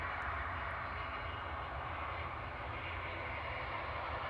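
A Logan Air ATR turboprop taxis at Manchester Airport, giving a steady, continuous engine drone at moderate distance that stays even throughout.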